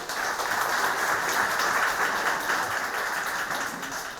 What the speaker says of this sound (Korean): 우리 김태식 회장님에게 큰 응원의 박수를 한번 부탁드리겠습니다.